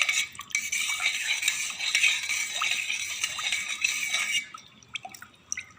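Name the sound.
whisking yogurt with spices in a bowl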